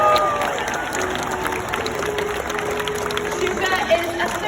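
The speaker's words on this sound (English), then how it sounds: "Everyone give a big round of applause for Shuka." Crowd applause and cheering from a SeaWorld San Diego stadium audience greeting Shuka, a killer whale, steady and broad throughout with some scattered shouts and talk mixed in.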